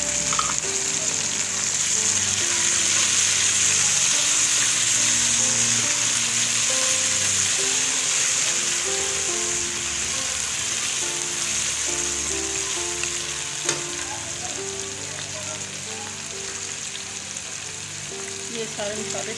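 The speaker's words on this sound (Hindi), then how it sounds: "कटे हुए टमाटर शामिल कर रही हूँ।" Chopped tomatoes frying in a pan, a loud, steady hiss and crackle of sizzling oil filling the whole stretch, close and continuous with only occasional faint clinks.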